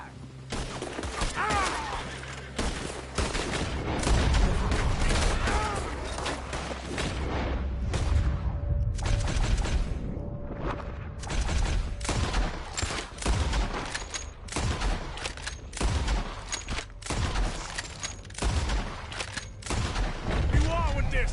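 A sustained gunfire shootout in Red Dead Redemption 2, with dense overlapping shots and heavy booms running almost nonstop, and voices shouting over the battle.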